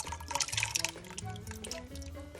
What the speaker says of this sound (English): get some water in there, about a half a can of water, rinse it all out